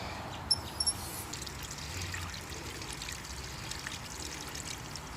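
Water from an outdoor garden hose runs over freshly picked strawberries in a steady, soft trickling pour, faint and continuous with a couple of brief knocks near the start.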